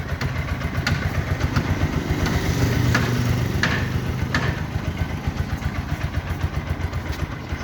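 A TVS Apache RTR 4V motorcycle engine runs close by at a steady idle with a fast, even thrumming pulse and some light mechanical clatter over it.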